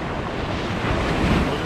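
Rough ocean surf rolls and breaks on Navarre Beach, a loud continuous wash of waves mixed with gusty wind buffeting the microphone, with no voices.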